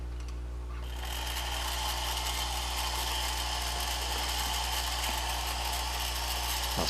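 A Distler Electromatic 7500 Porsche 356 toy car's small electric motor spins up on low speed, a steady close buzzing whir with a faint mechanical gear rattle, running continuously with no talk.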